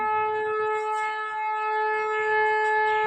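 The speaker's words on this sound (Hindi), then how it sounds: "सायरन हो रहा है।" A civil defense siren sounds as a steady, loud, sustained tone that holds without pause, heard at four o'clock from a home setting, with no one talking over it.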